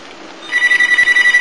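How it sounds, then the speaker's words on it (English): A phone starts ringing abruptly with a loud, close, warbling electronic trill that pulses rapidly and keeps going to the end. "Ah, damn, it's my phone."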